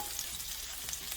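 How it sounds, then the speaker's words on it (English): Chickpeas and carrots sauté in a pan with a soft, even sizzle, low and steady with a couple of faint ticks. "I just like these to saute together."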